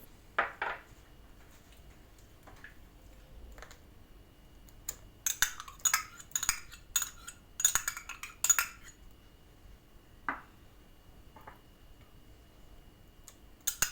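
A whisk beating yogurt into eggs and sugar in a bowl for a quick homemade dessert, heard as bursts of quick, light metallic clicks and taps in a quiet room, with sparse single knocks before and after.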